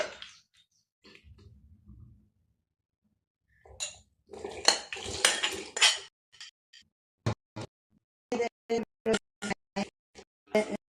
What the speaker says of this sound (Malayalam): ശേഷം നമ്മുടെ കടല വേവിച്ചത് ഇതിലേക്ക് ചേർക്കാം.